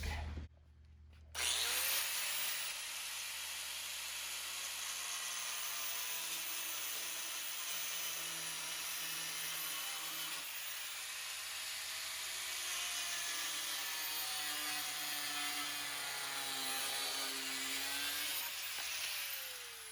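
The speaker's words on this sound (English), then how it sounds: "I'm going to go ahead and cut through this real quick" A power tool cuts through plastic trim during a 2022 Toyota Tundra overland front bumper install, giving a steady whining grind that runs nearly nonstop for the whole stretch, close and fairly even in pitch.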